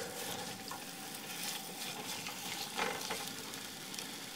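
Potatoes frying in a generous amount of olive oil for a Spanish omelette, a dense continuous sizzle with light bubbling crackle and faint stirring, close and steady.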